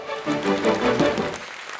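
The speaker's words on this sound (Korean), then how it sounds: "박수로 환영해 주시기 바랍니다" A large audience at a Buddhist mass dharma assembly in Jeonbuk applauds to welcome a speaker, a steady wash of many hands clapping that swells and then begins to fade.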